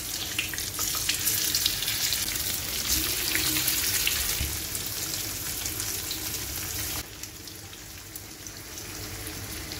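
Sardines (mathi) fry in a pan with a bright, steady spattering sizzle close by, dense crackle that thins and quietens partway through and then carries on more softly, with no voices.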